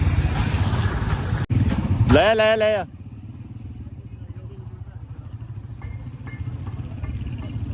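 Motorcycle carrying riders with pipes on the way to a farmhouse, its engine running steadily throughout, loudest early on, while voices talk and briefly shout over it.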